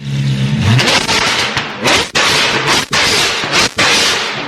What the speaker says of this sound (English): we made sure to replace it with a full straight pipe system. So yeah, this thing absolutely screams